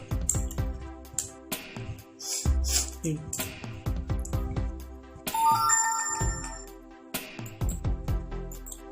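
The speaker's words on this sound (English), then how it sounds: "There are some notifications." Phone notification tones chime repeatedly over several seconds, bright stacked electronic pings and a short rising melodic jingle, recurring in bursts with a brief gap of quiet.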